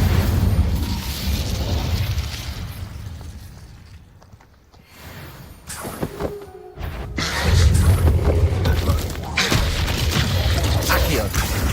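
A fire spell cast in the Hogwarts Legacy video game lands as booming, explosive bursts. The rumbling blasts sit under ongoing speech and a short quieter gap.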